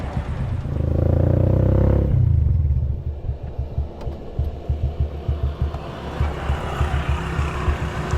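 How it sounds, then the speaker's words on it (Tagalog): A motorcycle engine idles while warming up early in the morning, with a loud revving surge at the start, then a steady, close, rhythmic putter and clatter that continues alone. "pinapainit ko na lang yung makina ni Mia"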